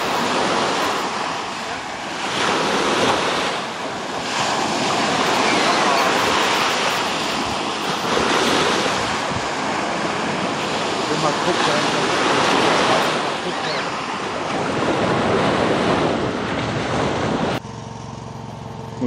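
Mediterranean Sea waves and surf at Sousse, Tunisia, roll in as a continuous rushing wash with swelling surges, buffeted by wind noise on the microphone, before a brief quieter moment at the end.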